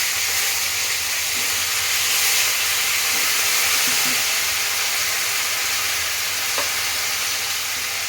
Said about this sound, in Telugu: కరివేపాకు వేసుకున్నాక ఇవి ఉన్నాయి కదా, వంకాయ, ఆలుగడ్డ, ఇది క్యాప్సికమ్, మునక్కాయ వేసేసుకున్నాం